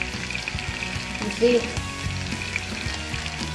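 Steak sizzling loudly in a very hot pan as it is flipped, a continuous crackling fry with a brief surge at the turn, while someone talks over it.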